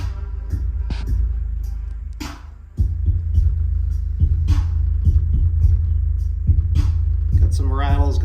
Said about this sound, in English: Got some rattles going on here in the entertainment center.